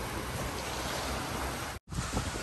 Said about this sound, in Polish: Tu już jest centralnie brzeg morza.